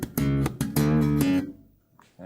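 Bass guitar riff played sped up, with a quick run of thumbed hits and muted dead notes, loud and alone, ending with a ringing note that fades out.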